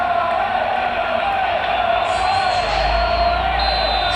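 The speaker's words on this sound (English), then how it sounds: "the crowd clearly like what they just saw" A large stadium crowd in the PES 2021 football game roars and cheers in a steady, dense wash of noise after a piece of solid defending, continuing for several seconds without a break.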